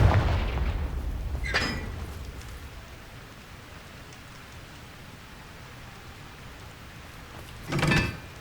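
Confringo fire spell explosions in Hogwarts Legacy: two short, loud blasts about six seconds apart over a low rumbling background, each with a brief crackling burst.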